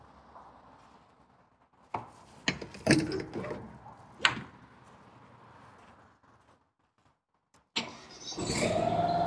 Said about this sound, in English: We'll fire it up, let it settle out before we throttle up.